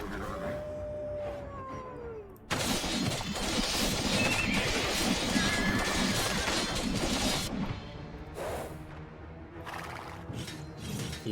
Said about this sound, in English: How do we get rid of these horses?